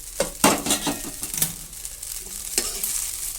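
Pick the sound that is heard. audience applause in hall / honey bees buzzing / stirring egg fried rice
stirring egg fried rice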